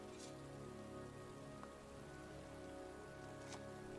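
Heavy rain pours steadily over a cemetery in the video game Heavy Rain, a constant soft hiss of drops with occasional brief splashes, faint and unbroken with no voices.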